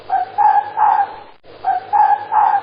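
Fox barking in two quick bursts of three sharp yapping barks each, loud and close with a brief pause between groups, no talking.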